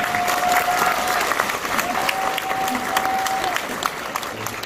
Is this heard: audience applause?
yes